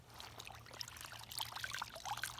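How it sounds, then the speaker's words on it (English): A soapy shirt is rinsed in water, giving a soft, faint trickling and dribbling with light splashes, steady and close, with no voices. "you're going to put it in the water and rinse all the soap out"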